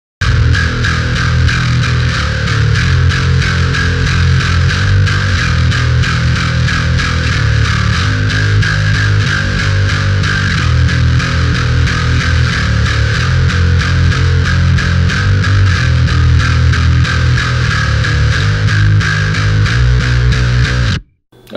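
Soloed bass guitar track playing a steady line to compare nickel and steel strings, loud and continuous with a gritty, driven tone and no talking.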